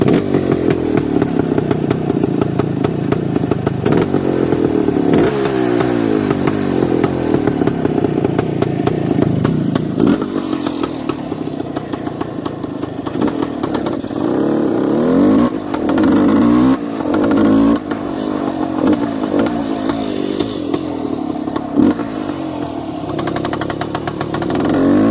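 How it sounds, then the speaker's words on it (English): A 1971 Yamaha RT1-B big bore 360 motorcycle running with a loud, raspy exhaust, revving up and down repeatedly for about 25 seconds, close and continuous with no talk. "This big bore 360 has quite the exhaust note."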